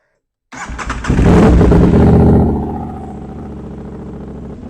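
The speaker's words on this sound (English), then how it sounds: "So we're going to go ahead and start the bike now." An Aprilia motorcycle engine fires up close by, cranking into a loud burst that settles into a steady, lower idle as it warms; no talking.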